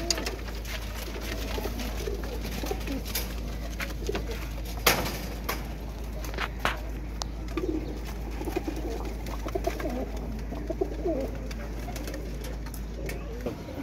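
Pigeons kept by a flying-pigeon fancier coo softly in the background, with scattered faint calls and rustles under someone talking quietly nearby.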